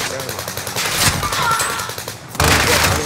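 Loud video-game gunfire rattles in quick repeated bursts, with a brief lull before another heavy volley near the end, and a voice faintly under it.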